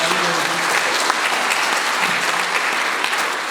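Dense, sustained audience applause at a mayoral forum, loud and steady throughout, with faint voices in the crowd.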